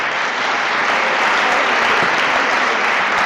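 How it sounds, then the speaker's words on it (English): Thick, steady applause from a large audience at a live meditation event, a dense unbroken roar of clapping hands sustained at full loudness throughout. "could you please give another round of applause to my family"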